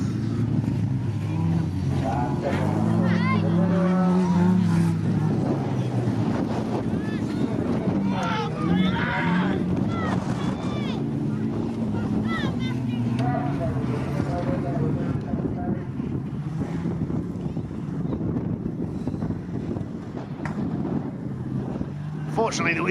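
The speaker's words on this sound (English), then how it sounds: "He's still going. Engine running." A banger racing car's engine runs on at a windy Ilfracombe track after a crash, a steady mid-distance rumble under heavy wind buffeting, with a voice talking over it.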